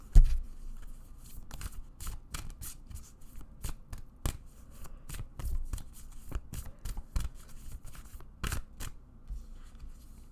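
A deck of tarot cards is shuffled by hand in a series of quick riffling bursts and soft taps, close and crisp, irregular in rhythm over a quiet room, with no talk.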